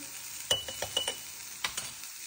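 Spices with chili powder, turmeric and salt fry in a pan, giving a soft sizzle under a few quick clinks and scrapes of stirring, faint and close.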